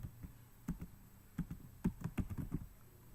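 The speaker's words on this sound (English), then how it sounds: "Now I can type again" Quiet keystrokes on a computer keyboard tap out in irregular bursts, a dozen or so clicks clustered mid-clip, soft and close with no voices.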